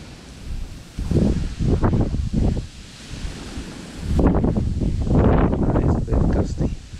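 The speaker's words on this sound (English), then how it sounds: "It's a bit gusty, this is." Gusty wind buffets a microphone on a Thames riverbank during a winter fishing match, coming in two loud rumbling bursts separated by a calmer lull, with faint rustling beneath.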